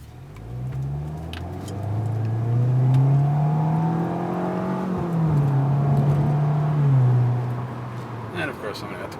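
A 2012 US-spec Audi A4 with a stainless dual exhaust revs up, its engine note rising and holding through a couple of sustained throttle pulls before easing off, loud and close.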